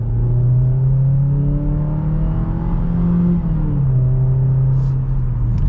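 A 2022 Jeep Compass Latitude, a small SUV, accelerates from inside the cabin, its engine droning loud and steady as the pitch climbs and then drops at a gear change before rising again.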